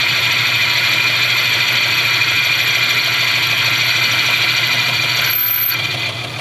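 A lathe turning the inner bore of an ultra precision toolroom spindle, a continuous loud machining drone with a steady hum and high whine, close up, easing slightly near the end, with no speech.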